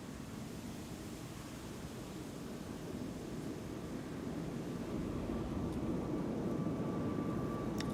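Two narrow-body airliners, an Embraer 190 and an A320, taking off together from both runways at Amsterdam Schiphol, a broad steady jet roar that swells slightly as they climb away at a distance.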